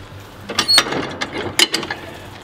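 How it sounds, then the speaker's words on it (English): A lawn mower deck is lifted by its lever mechanism, giving a few close, sharp ratcheting clicks and clunks in quick bursts with no talking over them. "let me pop this deck up a little bit"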